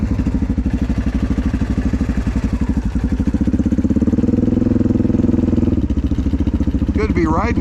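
A motorcycle engine runs steadily up close during a ride, a loud continuous low rumble with a clattering pulse that holds through most of the stretch and dips briefly near the end.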